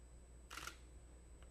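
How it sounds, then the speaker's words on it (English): A DSLR camera shutter fires once, the mirror flipping up and back in a short crisp mechanical clack, followed by a faint second tick, in an otherwise quiet room with a low hum. "each time I click the shutter, the mirror goes up,"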